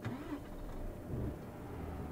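A truck engine in Euro Truck Simulator 2 stalling and knocking gives a low, rough, steady rumble that holds at an even level for about two seconds.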